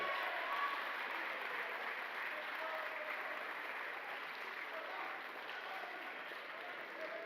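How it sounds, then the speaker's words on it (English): Audience applause for a women's volleyball Most Outstanding Player at a college athletics awards ceremony, a steady even wash of clapping from a full room that holds at one level throughout. "A big round of applause for Miss Leslie Flores."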